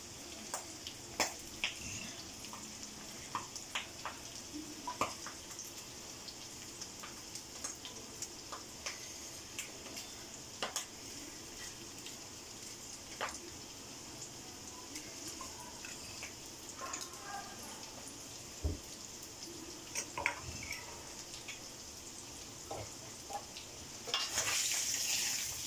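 Potatoes frying in masala for aloo dum give a low steady sizzle dotted with scattered crackles and stirring ticks over a long stretch, quiet and close, with a brief louder hiss at the very end.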